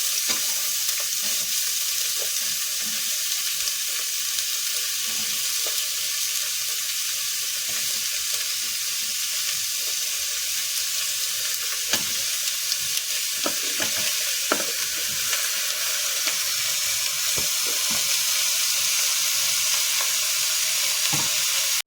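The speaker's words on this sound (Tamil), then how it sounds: "வெங்காயம் தக்காளி எல்லாம் வதங்கிட்டுருக்கு" Onion, tomato and green chilli sautéing in a pan for a lamb curry, a steady close sizzle with scattered scrapes and clicks of stirring running throughout, no voices.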